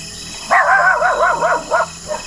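A dog gives a loud, close whining, yowling bark that wavers in pitch, followed by two shorter yips.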